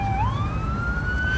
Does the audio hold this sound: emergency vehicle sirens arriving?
yes